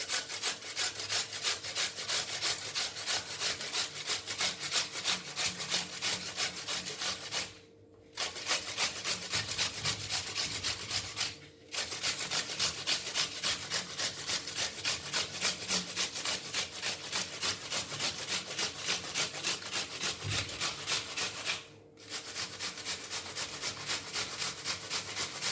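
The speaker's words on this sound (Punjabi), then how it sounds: "ਪਿਆਜ਼ ਜਿਹੜੇ ਆ ਅਸੀਂ ਕੱਦੂਕਸ ਕਰ ਲੈਣੇ ਆ। ਕੱਦੂਕਸ ਜਿਹੜੇ ਆ ਮੋਟੇ ਸਾਈਡ ਤੋਂ ਕਰਨੇ ਆ" Onions grated on the coarse side of a grater, a steady, loud rasping rhythm of fast strokes running almost continuously, with three short pauses and no talk.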